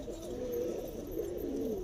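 Pigeons coo softly and continuously nearby, their low burbling calls rolling and overlapping with no break and no talk.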